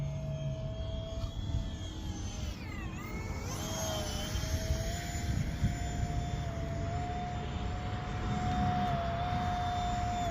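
A brushless electric ducted-fan RC jet, a J35 model, flies slowly at light throttle, giving a steady whining whoosh that sweeps in pitch as it passes and holds a continuous drone throughout.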